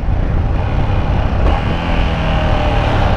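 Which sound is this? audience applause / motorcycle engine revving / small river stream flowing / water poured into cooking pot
motorcycle engine revving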